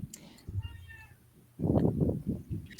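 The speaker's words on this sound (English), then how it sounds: "Meow to whoever is meowing." A house cat meows a few times, first a thin, faint mew and then louder, close meows near the end, with a voice speaking briefly underneath.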